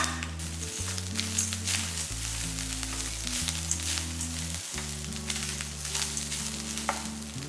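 Grated coconut and roasted gram dal crackle and sizzle as they roast in a pan, with steady frying noise and occasional stirring scrapes throughout, close up and without talk.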